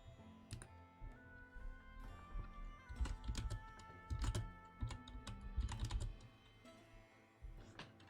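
Quick bursts of typing on a computer keyboard, close and fairly quiet, with uneven clusters of key clicks and brief pauses between words.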